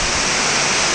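Steady, dense hiss of rain falling outdoors, constant and fairly loud, with no voices over it.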